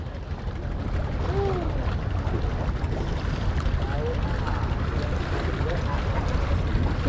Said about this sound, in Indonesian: Mulai rame mas bro, angin udah datang.